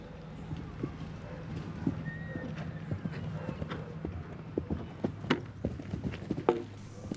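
Horse hoofbeats on a cross-country eventing course at Badminton, a steady galloping rhythm of soft thuds heard at moderate distance beneath a commentator's voice.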